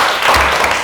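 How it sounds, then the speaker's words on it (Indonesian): Classroom audience applauding a student group after a presentation, a brief dense burst of clapping, loud and close, no voices over it. "Oke, tepuk tangan buat kelompok."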